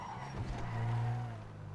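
Car engine in a video game revving up, a low rising growl that swells to a peak mid-clip and then eases off, with faint tire noise and no talk.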